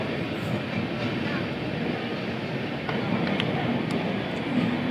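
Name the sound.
train running from New Delhi to Ranchi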